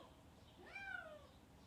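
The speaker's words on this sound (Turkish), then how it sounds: "Miyavlıyor şu an ama çok korkuyor benden." A newly adopted, frightened cat gives a single short, faint meow in a quiet indoor room.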